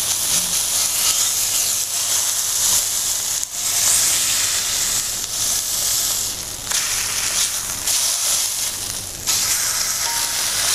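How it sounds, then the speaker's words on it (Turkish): Ends of a mustard-coated roast beef searing in a hot pan, a loud continuous sizzle and hiss with brief dips as the meat is shifted, close and alone. "Şimdi şu etlerimizin iki kafasından da birazcık ısıyı vereyim."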